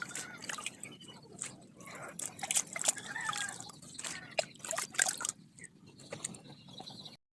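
A bonsai plant growing on a rock is dipped into water a couple of times, giving soft close drips, trickles and small splashes in irregular bursts, fairly quiet, trailing off into silence at the end.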